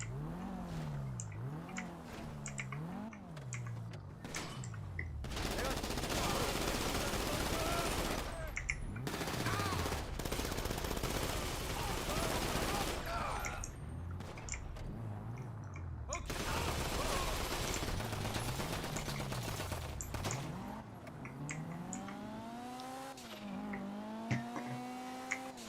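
Gunfire in GTA Online, bursts of rapid automatic shots in several loud clusters mixed with revving car engines and game sounds, recurring across the stretch, with people talking over it.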